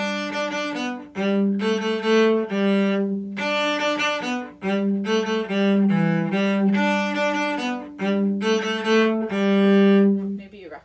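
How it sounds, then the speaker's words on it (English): Solo cello plays the folk tune Jimalong Josie, a steady sequence of bowed notes with rich harmonics, brief gaps between phrases, close and fairly loud with no talking. "So Jimalong Josie sounds like this."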